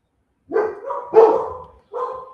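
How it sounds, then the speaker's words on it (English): Dogs bark in a few close, loud bursts, a couple of quick woofs followed by a pause and one more bark, with no talking over them. "Yes, these dogs."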